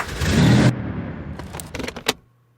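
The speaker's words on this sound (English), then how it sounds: "And then finally we have the car driving away at the very end." Car driving away as a designed sound effect: a loud engine rush cuts off sharply, followed by fainter rattles and a couple of clicks and thumps as it fades out.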